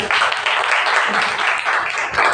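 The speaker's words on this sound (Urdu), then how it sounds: "ان کے لیے زوردار تالیاں" A church congregation in Pakistan breaks into loud, dense applause after a Sunday meeting, with the steady clapping filling the whole stretch up close.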